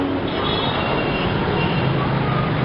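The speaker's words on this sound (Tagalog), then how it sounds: "Yan, traffic." Loud, close road traffic, with jeepneys in Lerma heading to Quiapo, making a dense continuous roar of engines and rumble.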